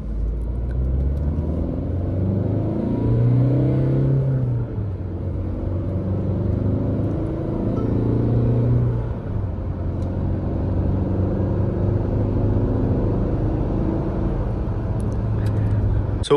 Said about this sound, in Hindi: दिखाऊंगा आपको इसको कि ये रेव करते हैं तो कैसे रिएक्ट करती है